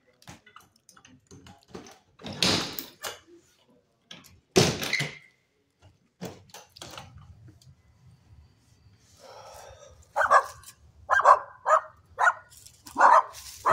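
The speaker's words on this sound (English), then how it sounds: "Dog scared the tar out of me." A dog barks in a run of sharp, loud barks near the end, after earlier door-like knocks and clatter indoors at a rental house.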